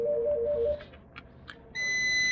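A multimeter on continuity mode beeps while probing the fuse on a Samsung ATIV Book NT500R laptop mainboard during repair. There is a short pulsing tone, then a few faint clicks, then a sustained steady beep at the end.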